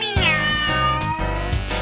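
A sung cat meow in a Halloween novelty song, a drawn-out musical meow carried over a full instrumental backing with steady beat, loud and close.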